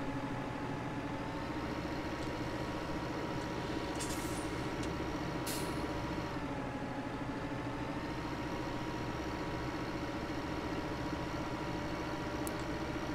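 A tractor in Farming Simulator 15 drives with a steady droning engine hum and tonal whine, loud and continuous, with a couple of brief hissing bursts over it.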